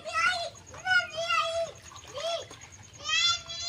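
Children shout and chatter up close while playing in a village pond, their bright voices over light, intermittent water splashes.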